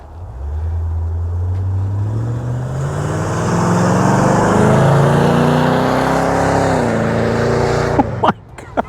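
A 1985 Land Rover Defender D90 restomod drives through snow, its engine loud and close, revving up steadily with rising pitch and then easing off near the end, with a few sharp knocks at the close.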